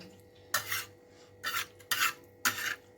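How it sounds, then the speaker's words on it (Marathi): Four short scraping strokes of a spoon against a pan as tomatoes are stirred in a little oil for tomato chutney, each stroke brief and close with quiet gaps between. "आता आपण थोडं तेल टाकून मस्त परतून घेऊया"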